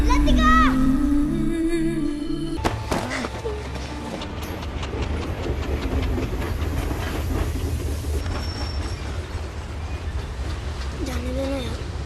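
A train rumbles along with rhythmic clickety-clack of wheels on rails, loud and steady, while voices and some music sound over it at the start.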